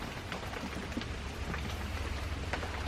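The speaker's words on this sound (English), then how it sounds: "Comes the rain again." Steady rain falls outdoors at night, a close, even patter of drops hitting surfaces with no voices over it.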